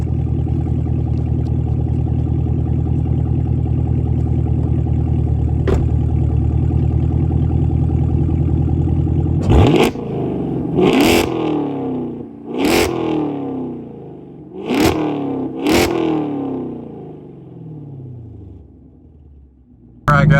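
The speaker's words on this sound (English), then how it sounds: "Sounds great. Listen at that exhaust." Chevrolet Camaro SS 1LE V8 exhaust while driving in second gear on a private road: a steady loud rumble inside the car, then several sharp revving surges with rising pitch, each easing back off, no talk.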